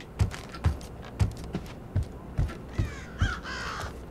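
A crow in the game Thief caws in a sharp, evenly spaced series of about eight harsh calls, loud and close, ending in a rougher, buzzing cry.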